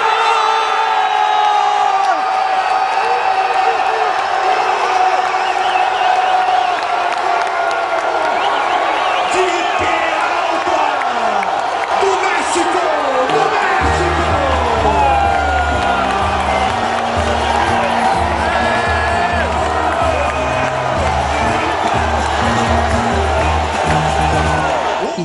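Mexico football fans roar and cheer as a dense, loud crowd, with whoops and shouts rising over a constant wall of noise, and a pounding rhythmic beat joining in about halfway through.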